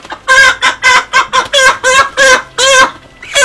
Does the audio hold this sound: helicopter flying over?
no